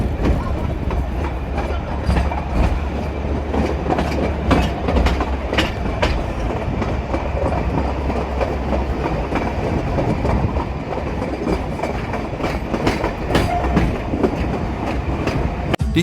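Dias Express, a small tourist road train running on rails between Hartenbos and Glentana, rumbles steadily with rhythmic clickety-clack and occasional wheel squeal throughout, loud and close, with no speech.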